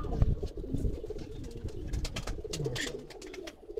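Rocket-generation pigeons coo softly in a loft, with low repeated calls and faint chirps beneath a constant murmur of background noise.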